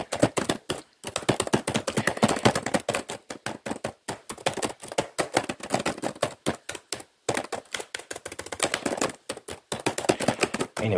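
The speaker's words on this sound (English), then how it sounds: "I've always liked these typing sounds." Fast, aggressive tapping and clacking of typing keys in a lofi setting, a dense stream of crisp keystrokes close to the mic with brief pauses between bursts and no talking.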